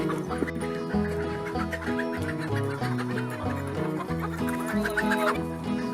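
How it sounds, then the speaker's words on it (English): A flock of chickens clucks continuously up close, with scattered duck quacks mixed in and bursts of wing-flapping rustle from the chickens and ducks. "She loves when the ducks and the chickens flap their wings."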